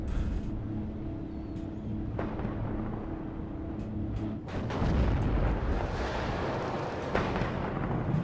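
Artillery fire in the video game Warno, with M109A2 guns among the units, heard as rumbling booms and blasts that swell into a loud, dense roar of distant explosions.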